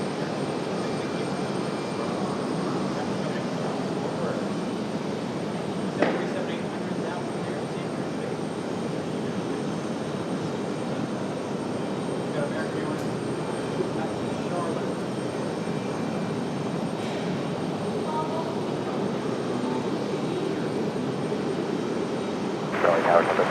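A jet airliner at RDU airport taking off or landing, a loud, steady engine roar that holds for the whole stretch, with faint radio chatter mixed in underneath.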